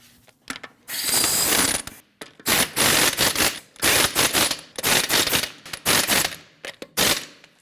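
A hand ratchet snugs the lug nuts on a 2012-2016 Honda CR-V wheel after a front strut replacement, giving loud, close bursts of rapid clicking in repeated strokes separated by short pauses.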